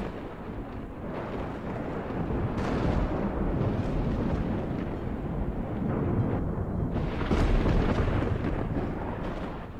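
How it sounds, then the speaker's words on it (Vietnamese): Loud, continuous rumbling thunder used as a sound effect in a Vietnamese audio ghost story, with rolling booms that swell and surge across the whole stretch and no voice over it. "sấm sét trên bầu trời đánh lên đùng đùng nghe đinh tai nhức óc"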